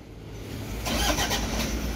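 A Toyota Hiace 10-seat passenger van cranks and fires up about a second in, its engine catching with a brief loud burst before settling into a rougher idle, heard close and without talking.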